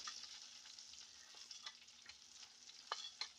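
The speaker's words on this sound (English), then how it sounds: "When that butter is bubbling, that's what you want to baste it with" Butter bubbles and sizzles gently in a pan over low heat while being spooned over a filet mignon, a soft steady crackle with a few sharper pops near the end.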